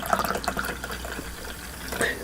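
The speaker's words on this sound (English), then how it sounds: "let's pour it out" Mountain Dew KickStart Black Cherry energy drink poured out of its can, a continuous splashing liquid stream with small drips, fairly close and alone.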